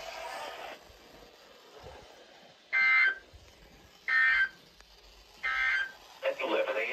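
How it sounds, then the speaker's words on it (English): A weekly warning alarm test tone plays on a weather radio: three loud, steady tone bursts of about a second each, separated by quieter gaps, followed by a fourth burst at the end over faint background noise. "The receipt of the alarm tone may also vary at different locations, especially at distances from the transmitter and in large buildings."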